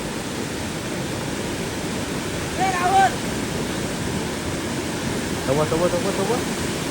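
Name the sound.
strong rushing water of a monsoon waterfall stream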